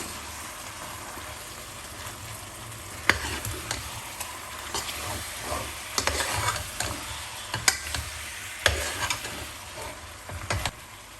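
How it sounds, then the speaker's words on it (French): Peanut paste being stirred into smoked cartilage frying in a pot, a steady close sizzle under repeated scraping strokes of the spoon, with sharper clacks every second or so. "je vais mettre la pâte d'arachide. Et nous allons mélanger le tout."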